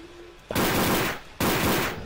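Two loud, sustained bursts of pistol fire from the video game Codename Cure, the first roughly three-quarters of a second long and the second following after a short gap, both harsh and close.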